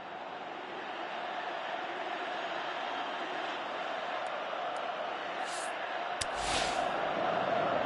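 A virtual football stadium crowd in PES 2018 roars in a continuous, broad wash of noise that swells slightly toward the end, with a few brief whistles or sharp sounds near the close.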